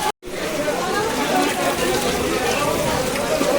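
Rain falling steadily at a fish market, a dense hiss with murmuring voices of people in the background.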